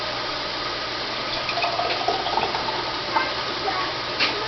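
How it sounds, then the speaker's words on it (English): Hot water pours steadily into a canning jar, a continuous splashing and trickling stream at moderate volume for several seconds. "So I'm just going to pour that right into the jar."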